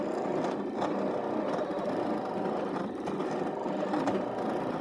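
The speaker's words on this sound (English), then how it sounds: "So there's a little blade inside that green cartridge that's now cutting the vinyl." A vinyl cutting machine drives a small blade in a green cartridge through vinyl sheet, a continuous close mechanical whirring hum with faint periodic ticks as the carriage moves back and forth.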